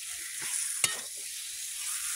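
Chicken pieces fry in a pan with cumin and chili paste, giving a soft steady sizzle with one sharp stirring scrape partway through, close and without talk.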